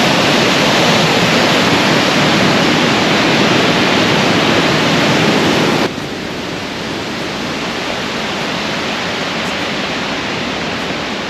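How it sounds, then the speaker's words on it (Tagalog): Twin Falls at Lynn Canyon Park in Vancouver pours with a loud, dense, unbroken roar of rushing water, close by, dropping slightly in level partway through as the position shifts. "Ito pala yung Twin Falls."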